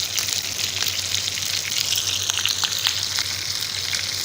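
Chicken browning in a pot for Saudi kabsa gives off a loud, steady sizzle and crackle of hot oil, continuous and close, with no voices over it.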